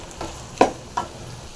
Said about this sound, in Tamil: தேங்காய் சேர்த்துட்டு இதையும் ஒரு 2 நிமிஷம் ஃப்ரை பண்ணிட்டு எடுத்து ஆற வச்சுட்டு க்ளீனாக அரைச்சிடலாம்.